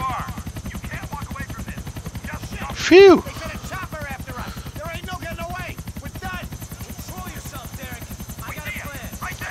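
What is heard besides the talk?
helicopter in the video game GTA IV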